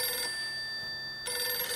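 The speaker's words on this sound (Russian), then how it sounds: "Мне звонят." An incoming call rings on a phone with a bright electronic tone, two bursts separated by a short gap, loud and close, with no voices.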